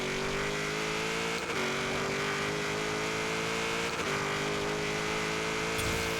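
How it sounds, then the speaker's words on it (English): A 1967 Chevrolet Chevelle Super Sport 396 in Forza Horizon 3 accelerating hard, a loud, steady engine roar climbing in pitch, with a brief dip at each gear change. "E-brake, feather the gas, let go of the e-brake, full gas it, transition to second gear."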